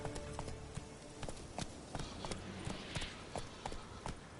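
Horse hooves gallop in The Witcher 3, sharp clip-clop strikes in a fast, steady rhythm, close by and fairly quiet, with faint wind behind them.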